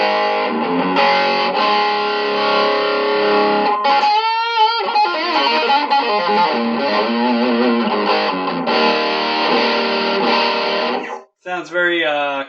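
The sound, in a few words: guitar through EVH 5150 amp model, compressed tone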